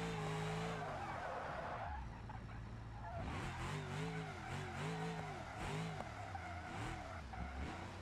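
In BeamNG.drive, a car's tires skid and squeal through a 180-degree spin while drifting, with long wavering screeches over engine revving, then repeated pulsing squeals, loud and continuous with no talking.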